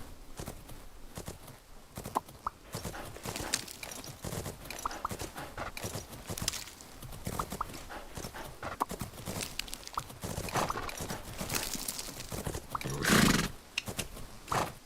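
Horses in the video game Fernhoof Grove whinny and clop along on hooves, with repeated hoof beats, breathy snorts and a loud neigh late on, all fairly close and steady throughout.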